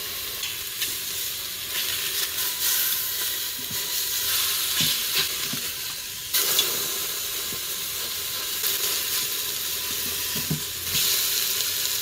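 Chicken sautéing on the hot saute setting of an Instant Pot, a steady close sizzle with occasional stirring clinks and no talk over it.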